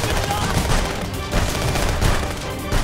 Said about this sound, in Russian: Стреляю по красным.